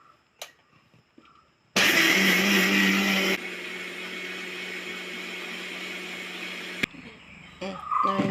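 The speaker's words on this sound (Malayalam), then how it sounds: "അപ്പോൾ രാവിലെ ഞാനിനി ഇത് അരയ്ക്കാൻ പോവാം" A mixer grinder grinding soaked rice with its soaking water for palappam batter, starting with a loud harsh whirring burst, then settling into a steady running hum for several seconds before cutting off, with faint clatter around it.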